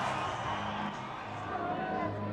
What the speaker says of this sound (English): The crowd have loved it.